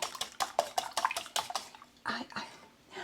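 Egg yolks are whisked in a bowl, producing quick, rhythmic clinking and sloshing strokes, fairly faint and close, slowing near the end.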